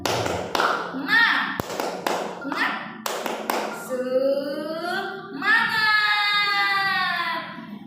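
A few sharp claps in a rhythmic pattern, then children's voices chanting together in a loud, drawn-out call.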